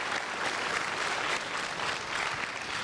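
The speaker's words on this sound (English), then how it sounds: "Round of applause for them," Applause from an audience at a middle school dedication ceremony, a dense, even patter of clapping heard from a distance, fairly faint and steady throughout.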